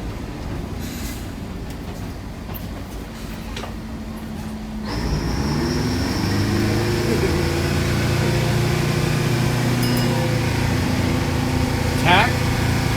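A GM 4106 bus engine idles with its engine cover off, a low, steady droning rumble that grows louder and fuller midway, with faint squeaks and clicks around it.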